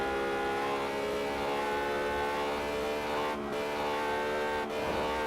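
A low-slung car in Test Drive Unlimited strains with little power. Its engine gives a steady, loud droning whine of layered tones that barely changes pitch, with brief dips near the end.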